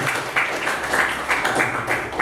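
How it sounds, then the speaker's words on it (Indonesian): A class of students claps together in a schoolroom at the start of a lesson, a steady patter of hands with a few louder bursts throughout, fairly close and without talk. "tepuk tangan untuk kalian semua"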